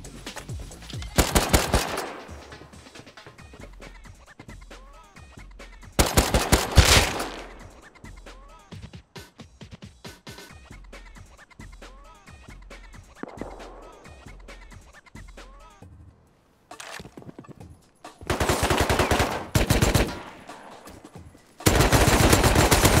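Gunfire in the survival video game Rust comes in several loud, close bursts of rapid automatic shots, separated by quieter stretches of scattered single shots and clicks.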